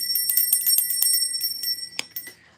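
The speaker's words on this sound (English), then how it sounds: "Let's ring the bell." A small bell is rung in a quick run of bright metallic tings, sustained ringing tones overlapping, close and fairly loud, then a final strike that fades out.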